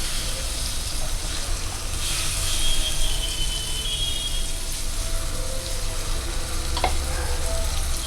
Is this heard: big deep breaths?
no